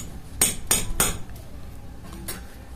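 Spices mixed into softened onion in a bowl: three quick, sharp metallic clinks of a spoon against the bowl, then quieter scraping and one more tap, close by and alone.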